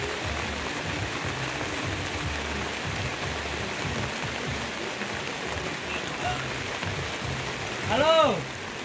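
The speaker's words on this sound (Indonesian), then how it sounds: "Walaupun dilanda hujan deras, tapi kita terus tetap semangat camping di malam Minggu ini ya." Heavy rain pours steadily on a lakeside campsite at night by Lake Laut Tawar in Central Aceh, a dense continuous hiss with a brief louder swell near the end.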